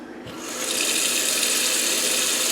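Water running steadily into a cooking pot of stuffed grape leaves weighed down by a plate, a constant close splashing pour that starts within the first half second and continues without talk.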